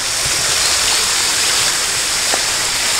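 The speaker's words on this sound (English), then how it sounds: "a little pond that is made to be like a fake river, fake creek." Water runs through an artificial creek at a small zoo, a loud, steady rushing hiss close by with faint splashes and no voices.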